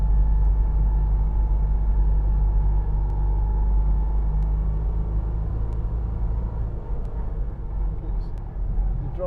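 A car engine rumbles steadily from inside the cabin, deep and close, while driving along a narrow single-track road. The low drone holds throughout with faint ticks above it.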